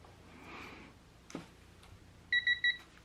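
A torque wrench set to 44 foot-pounds, tightening shock linkage on a KX100 dirt bike, gives three short, clear electronic beeps in quick succession near the end after quiet ratcheting and handling noise.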